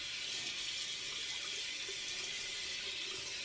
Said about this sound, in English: let's wash the face, rinse it.